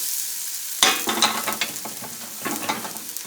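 Banana pieces sauté in ghee in a pan, a steady sizzle broken by a sudden loud stir and then bursts of scraping and crackling, close and alone.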